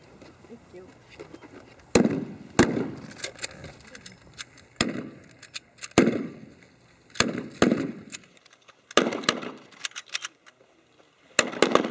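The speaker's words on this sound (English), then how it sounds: "I'm going to demonstrate to you Japanese rifle squad and the firing of Japanese infantry rifles." A Japanese WWII rifle squad in a reenactment fires bolt-action infantry rifles, a string of sharp, loud outdoor shots at irregular intervals, some clustered close together, over a background of voices.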